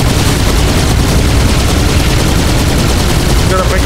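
Dense, loud gunfire pours out in a Halo 2 video game firefight aimed at a hovering Phantom dropship, continuous rapid shots layered with booms and no pause.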